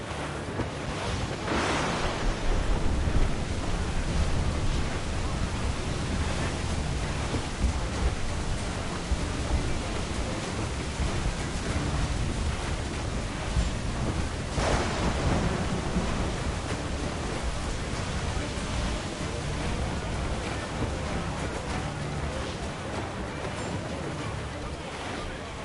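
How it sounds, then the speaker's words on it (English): A stormy sea in the Assassin's Creed 4 Black Flag video game: steady loud roar of wind and crashing waves fills the whole stretch, with a couple of heavier surges. "Storm there, Captain! Looks bad!"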